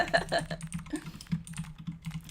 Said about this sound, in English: how nice it is to hear my keyboard